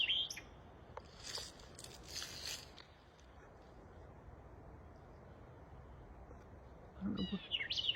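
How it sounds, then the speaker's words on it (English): A bird sings up in a tree with short, faint chirping phrases at the start and again near the end, heard in a quiet outdoor setting. "oh Lord, listen to that bird up there."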